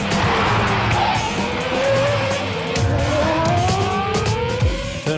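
A Red Bull RB6 Formula 1 car in a simulation game of the Korean circuit accelerates hard out of a turn. The loud engine whine climbs steadily in pitch over road rumble, with brief tyre noise.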